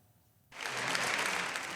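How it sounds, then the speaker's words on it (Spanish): After a brief quiet moment, applause in the Italian parliament for Giorgia Meloni bursts in and holds as a broad, even wash of many clapping hands, moderately loud and sustained to the end. "Ovación cerrada para Giorgia Meloni."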